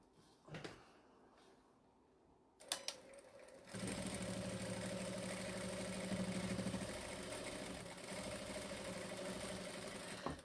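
A sewing machine top stitching along a faux leather tote: a few soft handling knocks, then a steady mechanical whirring run of stitching that holds evenly for several seconds up close.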